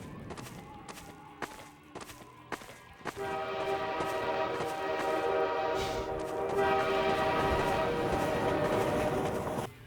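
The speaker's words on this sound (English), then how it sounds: "win a race against a train" In the Half-Life 2 video game, sharp metallic clacks sound at intervals before a train roars past at close range, its horn blaring in a sustained, loud, tonal blast over rumbling wheels until it suddenly cuts off.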